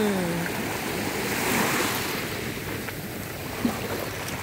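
Sea waves wash steadily onto a beach at a resort, a broad continuous surf roar with wind noise across the microphone and no talking.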